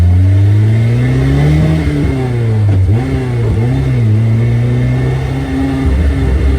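A VVL-powered Mazda 323 engine revving hard while driving: a loud, raw, close engine note climbs steadily, dips briefly through blips around gear changes, then pulls up again and holds a strong, sustained drone, with no talking.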